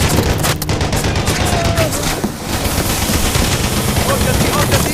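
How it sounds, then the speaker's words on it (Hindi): Sustained automatic gunfire from an action movie: a loud, dense, continuous barrage of rapid shots that fills the whole stretch, with no speech. "और जल्दी उन लोगों ने गोलियां जलानी शुरू कर दी।"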